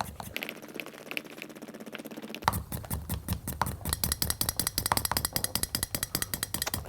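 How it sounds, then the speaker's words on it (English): A vacuum bag pump on a preshaped skateboard kit build gives off a fast, steady run of dry mechanical clicks that grows denser and louder halfway through, close up, with no talking. "That clicking sound you just heard usually means that there's no more air for the pump to draw out."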